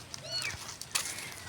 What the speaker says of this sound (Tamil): பூனை குட்டியான கத்திக்கிட்டே இருக்குது.